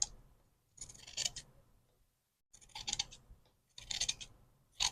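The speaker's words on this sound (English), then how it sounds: "I'm just going to cut out around it." Scissors cut out a quilted fabric scrap tag in three separate bursts of quick, crisp snips, with quiet pauses between them and no talk.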